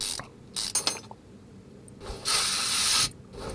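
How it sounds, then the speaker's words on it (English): Parts are worked on a solid rear drive axle in Car Mechanic Simulator 2021, with short metallic ratchet clicks, then a hissing burst of lubricating spray lasting about a second, close and fairly loud. "A lubricating spray comes right out."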